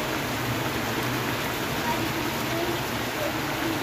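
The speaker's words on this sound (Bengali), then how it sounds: "বৃষ্টি এখন টিপ টিপ করে পড়ছে, জোরে পড়ছে না।" Light rain falls in a steady drizzle, a soft, even broadband hiss that holds at the same level throughout with no distinct drops standing out.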